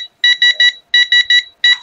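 Beeping alarm of an automatic gas switch-off timer for a pressure cooker whistle counter: clear, loud, high electronic beeps in rapid groups of three, repeating with short pauses, with no talk.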